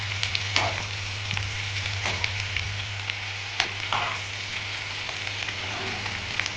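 Ivy gourd pieces and curry leaves fry in a pan over a medium flame, giving a steady close sizzle with scattered pops and light stirring clicks throughout.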